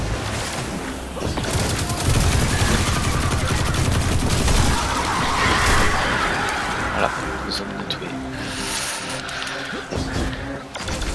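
Gunfire from enemies in the video game Destiny 2, rapid bursts and booming shots running through the whole stretch amid busy game effects, with a player talking over the action.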